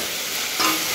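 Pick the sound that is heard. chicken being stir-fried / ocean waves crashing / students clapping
chicken being stir-fried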